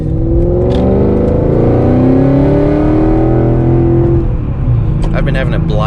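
A tuned Mercedes E55 engine pulls hard while driving, a loud continuous drone whose pitch sweeps upward through the gears, with a brief dip and shift near the end.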